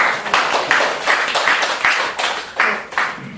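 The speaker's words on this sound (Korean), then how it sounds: "오늘 강의를 해주신 정병기 선생님께 큰 박수로 감사드립니다" A lecture audience at a Korean book talk applauds the speaker, a burst of dense hand clapping that rises and falls in waves for a few seconds, close and alone.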